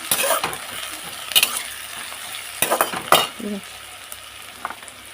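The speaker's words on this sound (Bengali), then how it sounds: "পেঁয়াজটা এই যে লাল লাল করে হয়ে গেছে ভাজা" Onions frying in a pan with a low background sizzle, broken by several sharp scrapes and clinks of a metal spatula stirring against the pan, with no talking.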